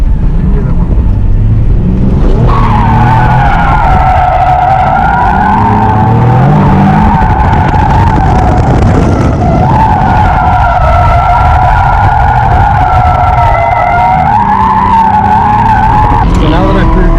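Car tires squeal loudly and continuously while drifting at a learners' drift day, a sustained high-pitched skid over a roaring engine, breaking off briefly and resuming, with talk underneath.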